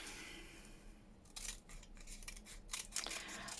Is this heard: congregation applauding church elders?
no